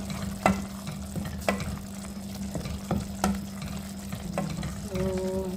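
Potatoes and carrots stirred in a frying pan while cooking beef giniling: a steady sizzle under repeated scraping strokes of the spoon, close and moderately loud, with no talking.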